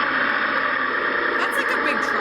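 A voice imitates a big truck engine, a low, steady rumbling drone held for a couple of seconds.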